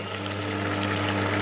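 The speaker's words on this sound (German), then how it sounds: "Und schon kocht das Wasser." Water boils in a pot on a stove with a steady bubbling churn over a low, constant hum.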